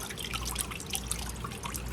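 Water trickling and dripping steadily into a sink or basin indoors, a continuous soft splashing wash with scattered bright drip plinks, fairly quiet and close, with no voices.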